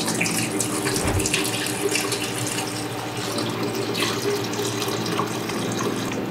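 Half a litre of liquid pours steadily over cumin and other spices in a vessel for a homemade tangerine-cumin infusion, a continuous close splashing trickle lasting the whole stretch with no talk.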